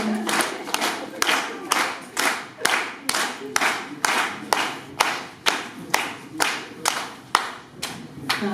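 A church audience claps in strong, regular unison as guests walk in, loud rhythmic claps repeating roughly twice a second and holding steady throughout.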